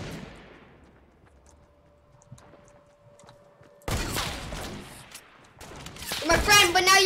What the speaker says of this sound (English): this guy's trying to shoot!